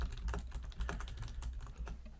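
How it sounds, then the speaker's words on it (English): Rapid typing on a computer keyboard, a steady run of light, close clicks and taps with no talking. "I'm going to mute my mic so you don't hear the typing."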